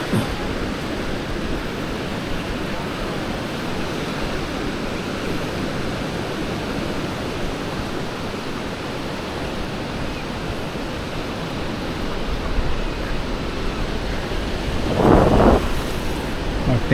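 Ocean surf at Praia do Santinho beach, a wind-exposed beach facing the open sea, makes a steady, broad roar of breaking waves with wind, swelling slightly louder toward the end.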